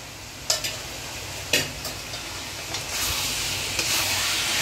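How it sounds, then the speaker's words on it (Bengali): Fried potatoes and soybeans stirred into spice masala and coriander in a wok, with a continuous close sizzle broken by a few sharp spatula clacks. "আর এইবার কড়াইতে যাচ্ছে হচ্ছে ভেজে রাখা আলু আর সয়াবিনগুলো।"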